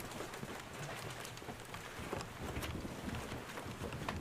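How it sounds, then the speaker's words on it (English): Wind roars and buffets steadily during a storm chase, a dense broadband rush mixed with rain noise, loud and constant throughout with no voices. "the wind is picking up"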